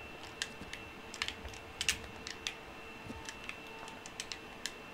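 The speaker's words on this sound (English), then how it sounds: "Sorry if you guys can hear the clicking of my controller. It's really clicky controller" Sharp, light clicks from a very clicky game controller during play of Human Fall Flat, tapping out in irregular bursts and single presses, close and fairly quiet over a soft steady background hum.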